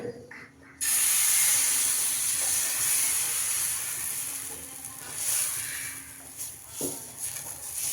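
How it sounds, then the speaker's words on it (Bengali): Rice-cake pitha frying in hot oil, a steady loud hiss and sizzle that starts abruptly after a quiet moment and continues throughout, with faint clinks from utensils. "এই দেখো এখন পিঠে ভাজছি"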